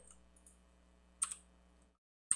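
A few sparse keystrokes on a computer keyboard enter a web address, with quiet scattered clicks, one sharper cluster midway and a final tap after a short silence, all faint and close, without speech.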